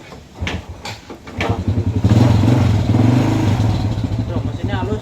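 A motorcycle engine fires up after its starter is pressed, then idles with a loud, smooth, steady putter close to the microphone while someone talks over it.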